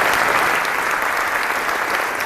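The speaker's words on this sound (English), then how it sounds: "Give him a round of applause." A conference audience at Cal State Dominguez Hills claps for Dr. Parham, steady full-room applause, loud and continuous throughout.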